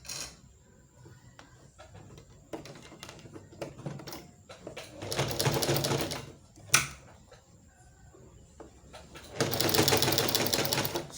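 A sewing machine stitches a corset cup along the seam allowance in short bursts, with louder sustained runs near the middle and end, separated by quiet pauses and small handling clicks.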